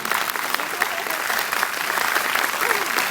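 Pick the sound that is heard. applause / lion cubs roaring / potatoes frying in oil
applause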